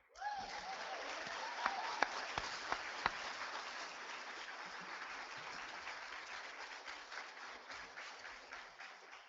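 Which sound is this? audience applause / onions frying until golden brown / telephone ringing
audience applause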